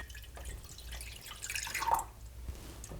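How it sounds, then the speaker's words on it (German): Remaining juice poured into a pot while making peach cake glaze, a soft uneven trickle and splashing of liquid with a few brighter drips, fairly quiet and close, with no voices. "Dann gebe ich den restlichen Saft dazu"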